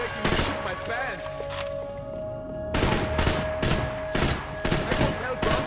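A heavy shootout in Max Payne 3, dense overlapping gunfire with rapid volleys and crashes, loud and continuous, with shouted voices mixed into the action.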